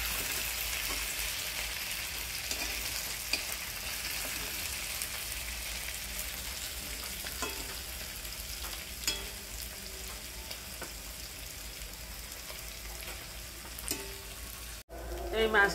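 Fresh puti fish crisp-frying in a kadai makes a soft, continuous hissing sizzle, broken by occasional clicks and scrapes as the fish are turned.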